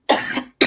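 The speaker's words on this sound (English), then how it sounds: "let me send my cough over to you" A person coughs twice up close, one harsh drawn-out cough followed after a short gap by the start of a second sharp one.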